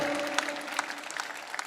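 Audience clapping at a Hindi poetry recital, a dense patter of many hands continuing throughout at moderate level, with a faint steady tone from the hall's sound system underneath.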